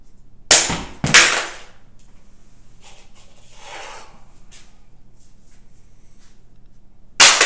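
A Baofeng AR-152 handheld radio dropped about three feet onto a concrete floor: two sharp, close clattering impacts in quick succession, then a quiet stretch with faint handling, and a third hard impact at the end.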